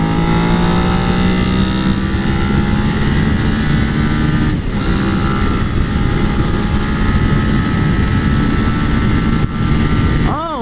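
Suzuki SV650 motorcycle engine pulling steadily in 4th gear around 5000 RPM at about 100 km/h, a loud continuous drone with rising pitch mixed with heavy wind rush.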